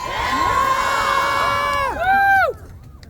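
A rally crowd cheers loudly, with high, sweeping whoops and shouts that rise and fall together, then a final burst of yells that cuts off abruptly.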